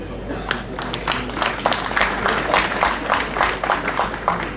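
An audience at a school function in Uganda claps in a dense, continuous burst of hand claps, fairly loud and sustained, with a voice speaking over the applause.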